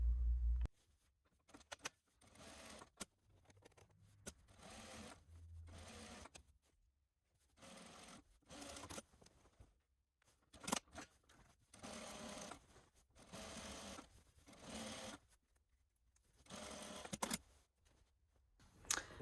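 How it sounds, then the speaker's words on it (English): Domestic sewing machine top stitching the front yoke of a knit top, running in repeated close bursts of rapid mechanical whirring separated by short pauses, with no talking. "Now I'm going to top stitch."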